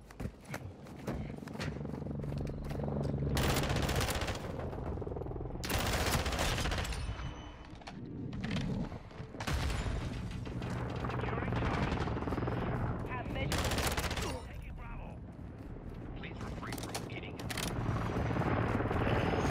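FR Avancer rifle fire in Modern Warfare 2, with loud rapid automatic bursts repeating over the whole stretch, mixed with other battle noise and players talking over it.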